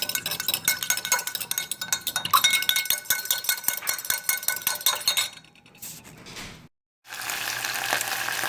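A utensil stirs cornstarch into water in a Pyrex dish, clinking and scraping against the glass in a quick, steady rhythm, then fading to near silence before a faint hiss returns.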